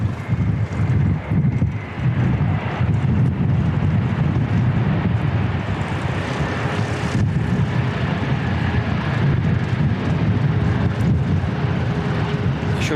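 C-17A military transport plane rolling out after landing on runway 02 at Christchurch Airport, a loud sustained roar of engines and rushing air with wind buffeting the microphone, steady throughout.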